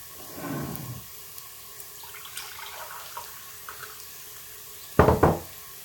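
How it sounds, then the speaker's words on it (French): Water is poured into a cooking pot for rice in a Lebanese spinach and minced meat dish, with a short splashing pour, a few small knocks, then a second louder burst of pouring near the end. "je vais mettre mon eau."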